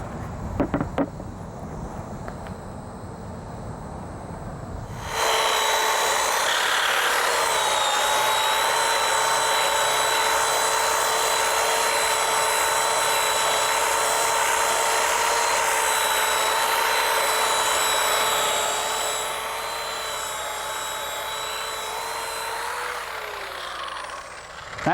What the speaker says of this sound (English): Now we need to rub this out with a heavy-duty rubbing compound, and we're going to get this thing looking really nice again.